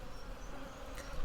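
A pet cat purring steadily and close, a low continuous buzzing rumble that runs unbroken for about a second with no talk.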